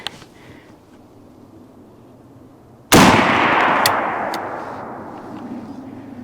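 A single sharp, loud rifle shot from a Winchester-chambered rifle cracks at close range, followed by a long, broad echo that slowly fades over several seconds.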